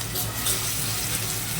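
Quail meat being washed in water with a little coriander powder, a steady wash of running, splashing water close by with no pauses.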